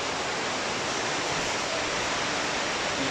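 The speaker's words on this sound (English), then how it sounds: "You probably can hear the ocean." Ocean waves wash along a coastline in a steady, unbroken roar of surf that holds an even level throughout, with no distinct wave breaks and no voices.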